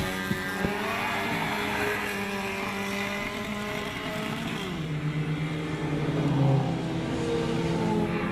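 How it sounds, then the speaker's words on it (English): A Mini 7 race car in an SL A Cars Mini 7 event runs flat out down the Hangar straight, its engine a loud, sustained droning roar that shifts pitch through gear changes, near and without talk. "And that is Imraz, car number 40. Beautiful, straight down the hanger straight"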